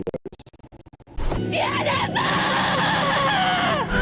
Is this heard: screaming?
yes